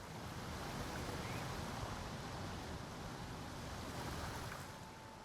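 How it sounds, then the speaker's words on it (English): A waterfall in the video game Baldur's Gate 3 pours out a steady, dense broadband rush of falling water that fills the whole stretch and eases slightly toward the end. "Nothing over here, just a pretty waterfall."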